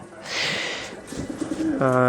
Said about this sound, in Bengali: আমার কাছে বিভিন্ন জাতের ফ্যান্সি কবুতর পেয়ে থাকবেন